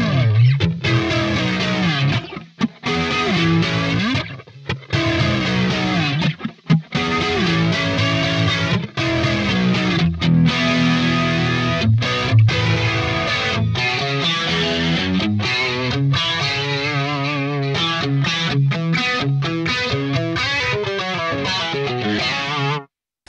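Electric guitar played through a flanger for an 80s tone, with a distorted, sweeping, chorus-like shimmer across continuous chords and riffs, loud and steady throughout with brief gaps between phrases.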